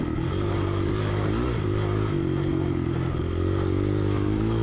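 Old Husqvarna motorcycle engine at a post-vintage cross-country race, running and revving loudly and continuously, close and dense with some clattering.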